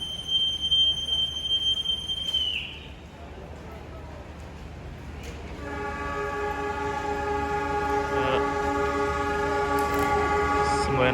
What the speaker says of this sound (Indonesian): Itu tandanya Jayabaya siap untuk kembali diberangkatkan dari stasiun Surabaya Gubeng.